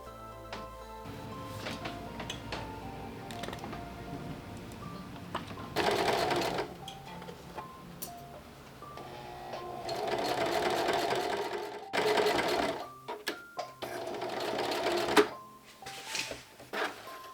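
Sewing machine stitching the top hem of a Viking apron dress, running in several bursts of rapid mechanical chattering, close and moderately loud, with short pauses and clicks between runs.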